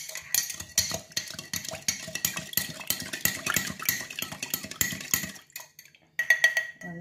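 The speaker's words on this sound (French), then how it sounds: "Aussi le sel. Et je mélange." A spoon clinks and scrapes against a bowl while salt is stirred into a chili and onion mixture, a run of quick irregular metallic taps that pauses briefly and then resumes.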